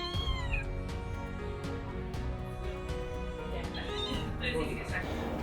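A shelter cat confined in a crate wails and meows repeatedly in drawn-out, rising cries, close and loud, over a steady background with some voices.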